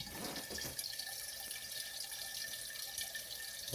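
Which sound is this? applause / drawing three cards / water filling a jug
water filling a jug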